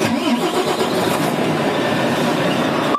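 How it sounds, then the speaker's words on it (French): A Volvo New FH truck's engine starts and runs with a dense, loud mechanical rumble that stays steady for a few seconds, heard up close. "Donc je peux vous inviter à mettre le véhicule en route."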